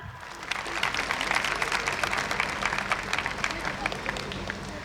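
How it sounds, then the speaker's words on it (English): An audience at a school annual day function applauds, dense steady clapping filling the hall for several seconds. "A big round of applause for Reena ma'am."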